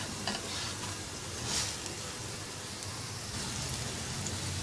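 Potato snacks frying in hot oil, a steady dense sizzle and crackle running the whole time with a brief louder flare, close-up and with no voices.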